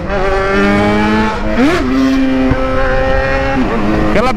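A black Jaguar XJ engine roars with a rich, buzzing tone. Its revs climb in short surges and then settle, close and loud, across a few seconds.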